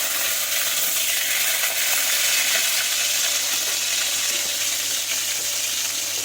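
Tomatoes fry in hot oil in a wok, giving a steady, close, bright sizzle that holds evenly throughout with no talking.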